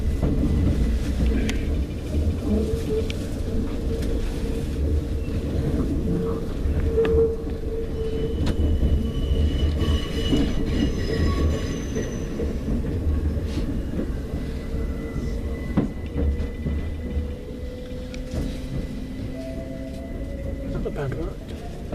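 A passenger train running on rails, a continuous close rumble with faint rhythmic clatter and occasional metallic squeals, with a platform announcement playing over it.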